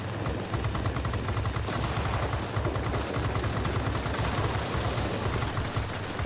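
Aircraft machine guns firing in World of Warplanes, a sustained rapid rattling burst of dense, evenly spaced shots over engine roar, loud and unbroken for several seconds.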